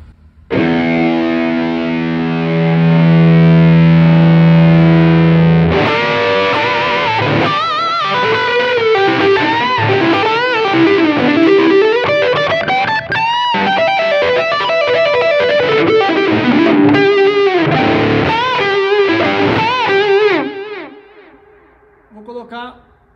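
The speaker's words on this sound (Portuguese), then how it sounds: "Agora eu vou zerar tudo aqui e vou ligar o fuzz." Electric guitar played through heavy fuzz distortion, a sustained buzzing chord and then a run of gritty, saturated notes, loud and up front before fading out.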